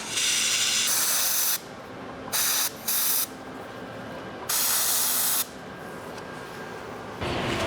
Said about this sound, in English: So I'm going to sandblast this real quick.